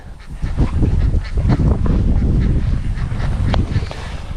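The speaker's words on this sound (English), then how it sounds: "this duck wants some grain. Let me go feed the other ducks." Farm ducks crowd in to be fed grain, a loud, close chorus of overlapping quacks and honking calls that continues without pause.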